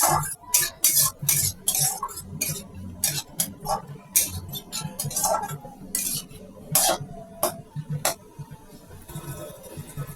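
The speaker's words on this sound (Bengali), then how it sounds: "এর মধ্যে দিয়ে দিচ্ছি একটি বড় সাইজের টমেটো কুচি এবং মশলার সাথে কষিয়ে নেবো ভালো করে" Chopped tomato being sautéed with spices in a pan, heard as a steady run of sharp spoon-on-metal clinks and scrapes from stirring, close and fairly loud, with no talking.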